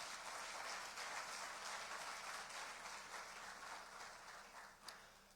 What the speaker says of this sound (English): Shall we do one more big round of applause?